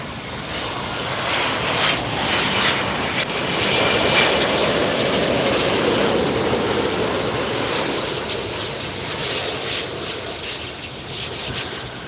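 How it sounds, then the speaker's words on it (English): A Delta Airbus A350-900 jet arriving from Shanghai lands at LAX, a loud sustained engine roar and broadband rush swelling and fading over several seconds, heard from a nearby hill. "Delta from Shanghai, an A350-900 series."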